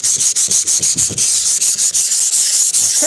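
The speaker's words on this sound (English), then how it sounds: "I'm sand this thing down a little bit," Hand sanding done up close, with quick, loud back-and-forth scratchy strokes repeating in a fast, even rhythm throughout and no voices.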